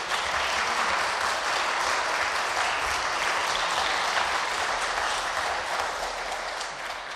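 Applause in the Czech parliament chamber, a dense, sustained clapping from many members that holds steady throughout and fades slightly toward the end, with no voices over it.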